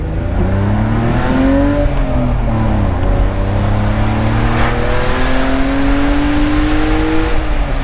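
A BMW convertible's 231-horsepower engine revs, its exhaust roaring steadily, pitch climbing and dipping in long sweeps, loud and close throughout.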